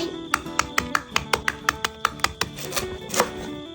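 A knife strikes lemongrass stalks on a cutting board in a kitchen, about a dozen sharp, evenly spaced thwacks over soft background music, prepared for Thai boiled chicken in fish sauce.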